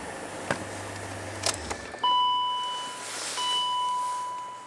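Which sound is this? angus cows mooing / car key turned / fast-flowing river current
car key turned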